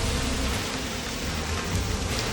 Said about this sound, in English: Sunny and raining.